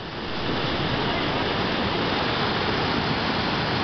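Ocean surf rushes onto the shore during a fishing session, a loud, continuous broadband roar that swells in within the first half second and then holds steady without distinct individual breaks.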